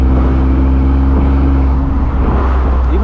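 A 1000 hp BMW M4 F83 convertible cruises in a low gear, its loud exhaust a deep, steady droning rumble heard from close inside the car, with a slight dip in tone near the end.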